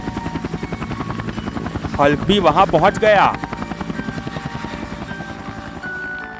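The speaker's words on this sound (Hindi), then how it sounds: "बाबा ने हेलीकॉप्टर को लैंड किया।" A cartoon helicopter setting down on a helipad beside a large palace, its steady rotor chop running throughout under narration and music, with a brief louder swell partway through.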